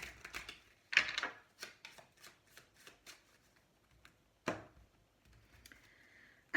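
Tarot cards being shuffled by hand up close, a run of crisp riffling and flicking bursts with short pauses between them and one sharper slap near the middle, with no talking.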